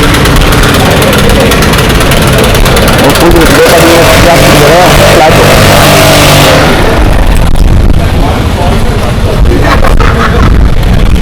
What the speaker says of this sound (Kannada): R15 ಒಂಥರ 150cc ಸೂಪರ್ ಬೈಕ್ ಇದ್ದಂಗೆ ಸಕ್ಕತ್ತಾಗಿ ಹೊಡಿಬೋದು ಅದರಲ್ಲಿ.